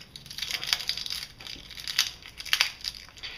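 Dry onion skin being peeled by hand, giving close crinkly crackling and tearing in short uneven bursts, with no voices.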